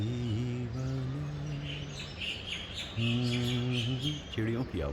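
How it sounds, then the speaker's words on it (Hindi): Birds chirp at sunrise, their quick high tweets scattered over sustained melodic tones that largely cover them. "चिड़ियों की आवाज़ है,"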